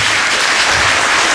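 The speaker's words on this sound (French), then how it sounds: "Applaudissements s'il vous plaît." An audience at a festival applauds loudly with dense, continuous clapping. It sounds close and steady throughout this short burst.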